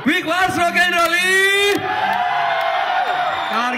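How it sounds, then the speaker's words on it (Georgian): A rock festival crowd in Kutaisi roars, whoops and cheers loudly as several voices yell, some in long sustained shouts, all close and energetic. "აპლოდისმენტები და ხმაური."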